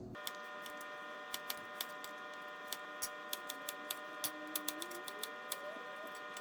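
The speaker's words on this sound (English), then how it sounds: "we're going to cut the garlic into slices" Garlic cloves being sliced with a knife on a board for aglio e olio pasta: a quiet run of crisp, sharp taps, irregular but steady, over a faint tonal hum, with no talking.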